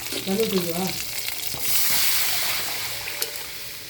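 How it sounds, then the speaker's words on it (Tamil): Steady frying sizzle of butterfly pea flowers sautéing in a pan with a few stirring scrapes, close and fairly loud, continuous throughout. "இந்த சங்குப்பூவை போட்டு இதுலேயே போட்டு லைட்டாக வதக்கிடலாம்"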